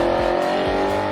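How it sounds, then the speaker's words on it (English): An Audi R8 V8 engine revs hard and loud, a close, sustained roar with the pitch climbing through quick rises and falls over about a second. "Now, why I'd get a V8 is because it sounds like this."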